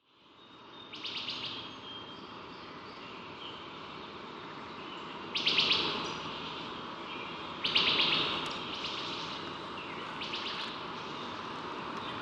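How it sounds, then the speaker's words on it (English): Dense forest ambience with insect-like buzzing and bird chirps, processed with echoing delay and reverb, several louder chirping bursts rising above a steady wash. "I started with some adventure recording I did in a forest of bird sounds."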